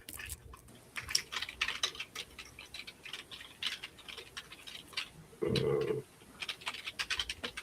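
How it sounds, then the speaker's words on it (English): Computer keyboard keys click in quick, uneven bursts close to the microphone. The typing is fairly quiet, and a short spoken or hummed sound interrupts it near the end. "I love the sound of those keys clicking."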